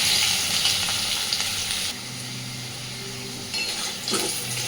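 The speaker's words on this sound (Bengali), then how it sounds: "আলু আর গাটু কচুটা প্রায় ফিফটি পার্সেন্ট সিদ্ধ হয়ে যাবে এইভাবে ভেজে নিতে হবে" Chunks of taro and potato sizzle steadily as they fry in oil in a wok, a dense, continuous crackle with brief stirring scrapes, heard alone without voices.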